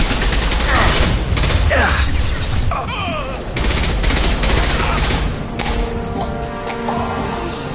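Mercenaries' gunfire in Mass Effect Legendary Edition: loud, close bursts of rapid automatic shots and booming impacts, with crashes, whooshing effects and mechanical hums between volleys.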